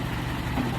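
A car engine idles with a low, steady rumble and vibration, close and even, while the stick-shift car is put into reverse.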